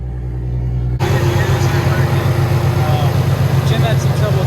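Infiniti G37 with a swapped engine firing on first start, a low idle hum that jumps into a loud, throbbing rough idle with a pulsing rumble.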